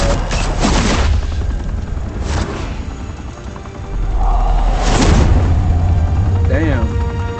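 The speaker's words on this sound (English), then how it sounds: "Open fire!" A gunfight in the Batman Telltale game, with dense booming bursts and shots packed over a continuous loud rumble, several heavier blasts standing out, close and intense, with voices mixed in.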